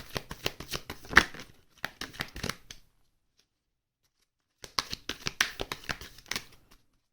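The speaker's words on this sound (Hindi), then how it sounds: "3 शफल्स कर रही हूँ" Tarot cards riffled and shuffled by hand in two close, crisp bursts of rapid flicking, split by a few seconds of silence.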